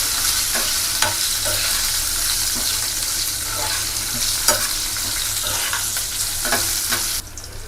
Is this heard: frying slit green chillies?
yes